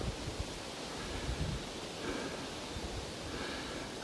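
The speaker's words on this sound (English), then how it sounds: "Can you hear the wind going through the trees?" Wind moves through trees on the Colorado Trail, a faint, steady hiss with soft rustling swells, heard alone without voices.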